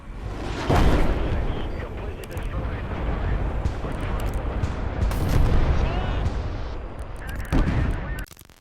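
Incoming fire in Command and Control 3, loud booming blasts and crackling gunfire mixed with rumbling explosions over several seconds, with voices talking through it.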